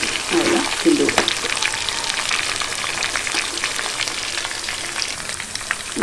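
Chicken 65 pieces fry in hot oil with a steady close sizzle and crackle, while a ladle stirs through them with a few soft scrapes and clacks near the start.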